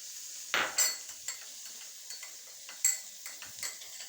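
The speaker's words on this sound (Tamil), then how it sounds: "இப்போ நம்ம கலக்கி வச்ச முட்டையை அப்படியே ஊற்றிடணும்." Beaten egg with pepper poured into a pan for egg capsicum poriyal and stirred, giving a faint sizzle under a few scattered utensil clinks and scrapes, close and fairly quiet.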